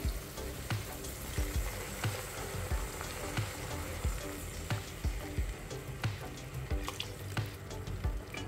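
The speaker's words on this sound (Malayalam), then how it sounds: "ഇതാ 2ാം പാൽ ചേർത്ത് കൊടുക്കട്ടെ." Second coconut milk pours and bubbles into a pot of onion payasam simmering on high heat, a steady watery sizzle and splash with soft rhythmic clinks, close and fairly quiet, no talking.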